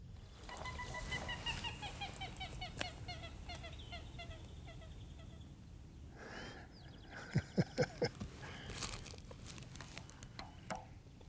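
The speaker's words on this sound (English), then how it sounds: "It was great to hear the moorhens all calling and talking to each other, and the male and the female chattering amongst themselves." Moorhens call and chatter on a pond among lily pads, a male and female exchanging soft clucks and chirps at moderate distance, with a short burst of louder, rhythmic calls partway through.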